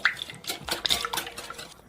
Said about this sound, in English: And mix everything together.